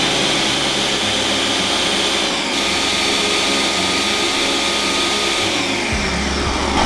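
Blender running on a fruit and vegetable protein smoothie, a loud steady motor whine with a brief dip partway through and a shift in pitch near the end as pulsing changes the load.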